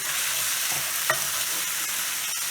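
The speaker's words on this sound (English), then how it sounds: "Okay, we're going to do a little stir here." Leftover pasta noodles fry in a pan with a constant close sizzle, while a utensil stirs and scrapes through them, giving a few soft clacks over the hiss.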